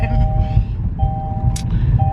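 Steady low road rumble from inside a moving car, with a few beeping tones and a brief click.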